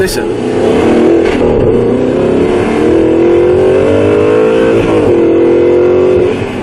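An Audi R8 supercar engine revs hard with the window down, a loud, close, sustained growl that climbs and settles in waves throughout.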